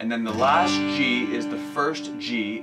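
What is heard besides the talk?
No everyday noise stands out behind the speech.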